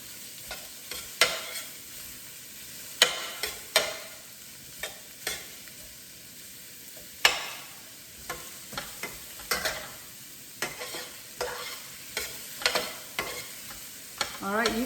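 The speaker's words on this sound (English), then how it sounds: "you can see this is how I stir fry" Carrots being stir-fried in a pan, with a steady sizzle under repeated sharp scrapes and clinks of a utensil against the pan at an uneven rhythm, close and clear.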